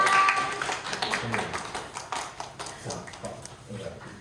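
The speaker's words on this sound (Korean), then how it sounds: "은호에게 한번 박수를 보내주시고요" A middle-school church youth group gives a round of light, scattered applause, a loose patter of claps that thins out over a few seconds, with a voice speaking over it.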